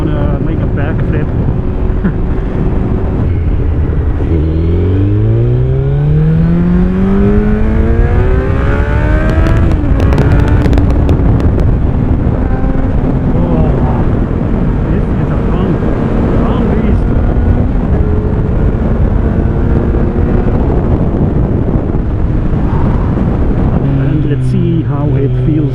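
A Kawasaki Z900 four-cylinder motorcycle with an Akrapovic exhaust pulls through rising gear runs, its pitch climbing and dropping at each shift, under constant wind rush from riding, with a rider talking now and then.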